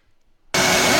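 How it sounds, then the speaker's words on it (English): A homemade screen-printing vacuum table, a drilled platen on a built frame with a shop vacuum attached, kicks on abruptly after near silence and roars as loud, steady broadband suction. "he built the vacuum table, drilled all the holes, made the frame, attached the vacuum to it"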